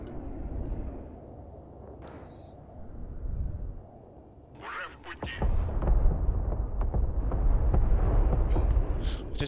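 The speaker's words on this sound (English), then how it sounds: "you definitely got vehicles on that because of some secondary explosions" A string of booming explosions from the video game Broken Arrow, one muffled blast and then rapid heavy secondary detonations of destroyed vehicles rolling on, loud and continuous.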